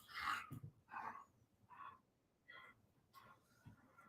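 A dog gives a run of short, faint barks and yips in separate bursts with gaps between them, sounding tense and close to a growl, with no talking.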